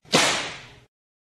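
A single sharp whip crack snaps out loud and close, trailing into a brief swishing decay before cutting to silence.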